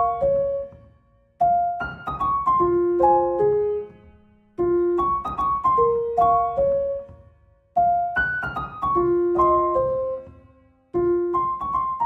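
A dry, unprocessed piano melody programmed in FL Studio plays alone, with short repeating phrases of clear single notes and chords that pause briefly between each phrase.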